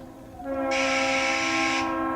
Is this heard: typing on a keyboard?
no